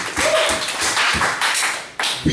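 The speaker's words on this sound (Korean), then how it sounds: "와 박수 박수!" A congregation at a Korean church service bursting into loud, dense applause, with a voice rising above the clapping.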